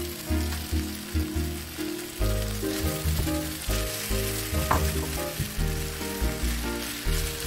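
Rice frying in a hot pan for seafood nasi goreng, a loud continuous sizzle with rhythmic scraping and stirring strokes recurring every second or so, and no talking.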